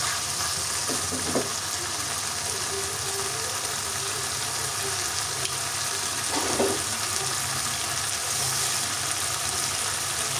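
Curry fries and sizzles in a pan, with a steady loud hiss broken by a few scraping stirs of a spoon, no one talking.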